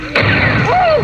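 Mortar fire in a combat zone in Afghanistan or Iraq: a sudden loud blast strikes near the start, then a heavy sustained rumble with a rising whine rolls on for about a second.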